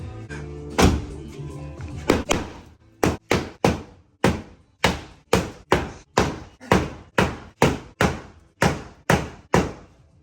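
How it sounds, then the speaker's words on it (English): Repeated hammer blows straightening bent sheet-metal body panels on a wrecked Jeep Cherokee, about sixteen sharp ringing strikes in a steady rhythm, loud and close, after a few irregular knocks at the start. "we're gonna use the good old hammer and see if we can get it straight again"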